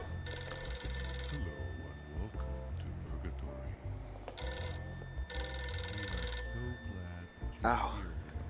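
A telephone rings in the Rick and Morty VR video game, repeated electronic bell bursts over game music and ambient sound, with a voice speaking partway through.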